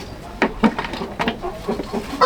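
Laying hen clucking close by in a coop, a series of short irregular clucks and squawks over about two seconds.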